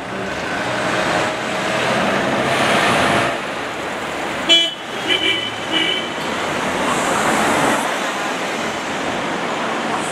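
Traffic of cars on a busy one-way street in Sakarya, a steady roar of passing vehicles with tyre hiss, a brief horn toot and a louder car rushing by midway.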